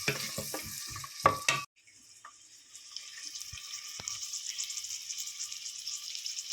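Carrots and other vegetables sizzle and bubble in a pot, stirred briefly at the start, then a steady soft simmering hiss continues alone.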